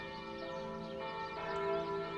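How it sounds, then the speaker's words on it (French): Church bells ring from a tower calling to prayer, with rich, sustained tones that overlap and linger, fairly loud and continuous, no voices present. "Dieu appelle à la prière par la sonnerie des cloches."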